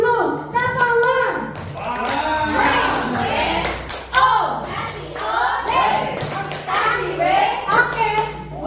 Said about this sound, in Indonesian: Kita tepuk wow dulu. Tepuk wow.